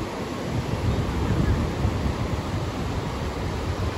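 Steady roar of ocean waves breaking on a wave-rich beach in Ubatuba, São Paulo, a dense continuous wash of surf with wind noise and no distinct breaks between waves.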